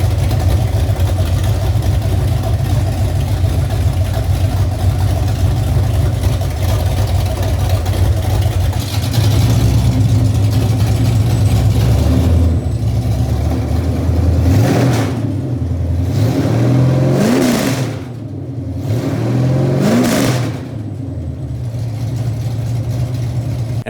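A Ford Mach 1 Mustang engine runs loudly up close, idling with a steady low rumble before several sharp revs climb and fall in quick succession near the end.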